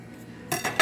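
Chopped red and green peppers and other vegetables for Puerto Rican sofrito are stirred in a bowl, giving a few quick clinking, scraping utensil knocks against the dish after a quiet start, close and fairly loud.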